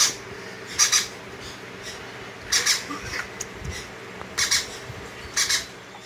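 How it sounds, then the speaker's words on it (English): A baby blue Quaker parrot, or monk parakeet, gives four sharp, loud squawks at uneven intervals, each a short harsh burst over a quiet room. "Baby is a blue Quaker parrot, also known as a Quaker parakeet, also known as a monk parrot or a monk parakeet."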